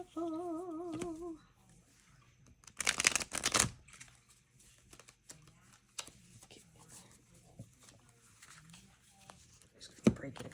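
An unofficial Adventure Time tarot deck being shuffled: a quick, papery riffle of cards bursts out for about a second after a brief spoken phrase, followed by softer scattered taps and handling noises.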